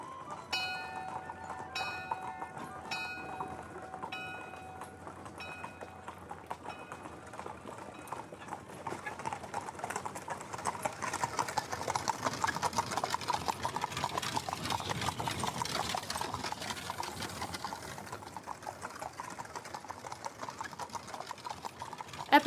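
Horse hooves clip-clop at a steady trotting rhythm as a wooden wagon loaded with barrels rolls along, a soft regular patter with faint bell-like tones early on, quiet and continuous.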